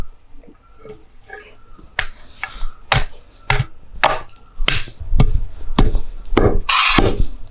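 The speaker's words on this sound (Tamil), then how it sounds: "இப்போ வந்து இதை நம்ம இடித்து பவுடர் ஆக்க போகிறோம்" Karboga rice (babchi seeds) pounded into powder for a herbal hair and skin oil, heard as a series of sharp, hard thuds, roughly one per half second, that grow louder and denser toward the end, with no talking.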